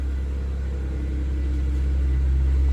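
A BMW 335i with the N54 engine idles after being reassembled with its belt and intakes back on. A steady low engine rumble hums close by with no voices.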